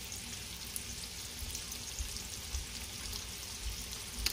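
Ravioli fry gently in butter in a pan, a soft, continuous sizzle and crackle heard close up, with a few faint thumps as the pieces are moved around.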